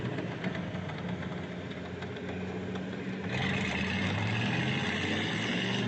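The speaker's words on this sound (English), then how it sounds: "these engines are screaming, these turbos are spooling" Turbocharged drift car engines roar at an Ultimate Drifting Challenge qualifying session at Orange Show Speedway, a loud, continuous mechanical drone that surges louder about halfway through as the revs climb; no voices.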